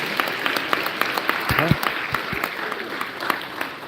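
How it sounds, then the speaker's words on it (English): An audience at a school honor roll ceremony claps for the staff being introduced: steady, moderately loud applause from a room of people, with a voice briefly heard partway through. "We can give those folks a round of applause."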